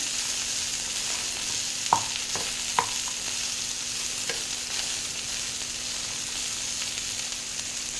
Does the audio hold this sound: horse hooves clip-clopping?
no